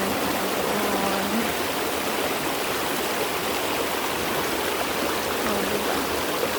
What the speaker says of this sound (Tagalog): Ando ng flowing water, ang tubig ng buhay.